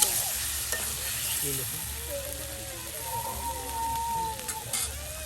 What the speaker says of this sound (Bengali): আপনার মাংস আলু কষিয়ে নেওয়া হচ্ছে